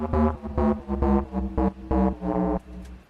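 A speed garage bass one-shot played through a sampler with effects, giving a thick, smeared, horn-like tone in a bouncy pattern of loud notes that blur into one another before a short tail.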